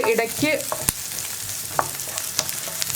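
Sliced onions sautéing in a pan for a plantain-blossom and egg thoran, a soft sizzle with occasional scraping stirs and utensil clinks, close and moderately loud, no talking.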